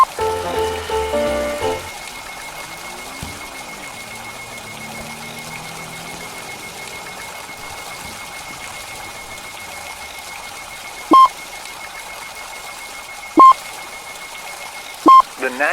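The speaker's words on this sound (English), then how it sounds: "This is NOAA weather radio, broadcasting from the National Weather Service." A NOAA weather radio alert tone in a Roblox tornado game sounds as three short, clear electronic beeps spaced a couple of seconds apart, over a faint steady hum and low background noise.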